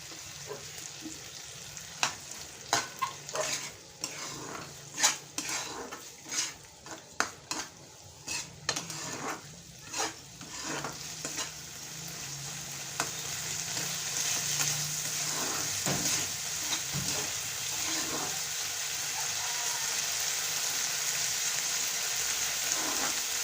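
Broad bean pickle being stirred and sautéed with achari masala in a pan, a steady sizzle with repeated scraping clinks of a spoon against the metal, louder in the first half and then a continuous frying hiss.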